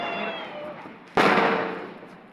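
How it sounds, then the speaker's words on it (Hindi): A Diwali firecracker bursts with a single sharp, loud bang that decays over about a second, following quieter background noise of a festive night outdoors. "गाइस यहाँ पे सब पटाखे फोड़ने में लगे हुए हैं, चकाचौंध हो रखी है।"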